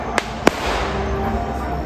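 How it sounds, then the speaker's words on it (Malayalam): Firecrackers go off at a Kerala temple festival procession, two sharp cracks near the start over a continuous crowd murmur. "നമുക്ക് പടക്കം കാണുന്നതായിട്ട് കാണാം"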